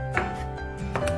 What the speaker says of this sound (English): Now let's cut the mushroom,